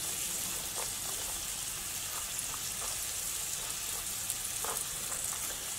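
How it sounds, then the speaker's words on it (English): Onions dropped into a hot gumbo pot for chicken, sausage and shrimp gumbo, giving a steady, even sizzle and frying hiss with faint crackles throughout, no voices. "I'm adding in onions."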